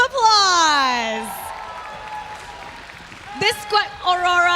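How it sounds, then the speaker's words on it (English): Audience applause and cheering fill the arena at the M5 World Championship esports wild card stage, a broad steady wash of clapping under amplified voices and music that rise and fall over it. "Give Imperial Esports a round of applause."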